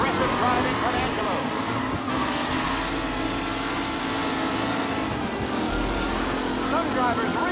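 Race cars roar through a Mafia Definitive Edition race, engines droning loud and continuous with steady revving and passing swells throughout.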